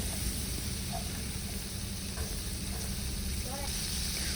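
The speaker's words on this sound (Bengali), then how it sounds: "দিয়ে চিংড়ি মাছগুলো খুব হালকা করে ভেজে নেব" Prawns frying lightly in hot oil give a steady, close, dense sizzle that holds evenly from start to finish.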